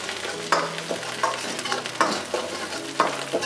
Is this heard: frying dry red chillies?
yes